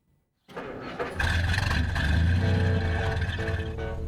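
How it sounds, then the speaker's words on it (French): A classic American car's engine cranks and catches after a short silence, then settles into a steady, close, rumbling idle that fills the rest of the moment. "Le ronronnement du moteur"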